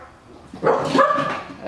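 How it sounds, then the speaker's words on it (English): Dogs barking, a short, close burst of sharp yapping barks rising out of near silence. "Stop barking, little devils."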